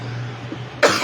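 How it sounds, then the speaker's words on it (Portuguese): A single sharp cough bursts out at the end of a short stretch of steady low hum, close and loud. "Relevem a minha tosse"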